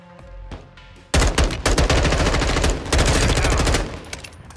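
Loud, rapid automatic gunfire in the video game Modern Warfare II, sustained bursts of close shots crackling after a quieter opening, with a brief pause before a second stretch of firing.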